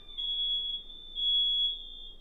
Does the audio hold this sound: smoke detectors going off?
yes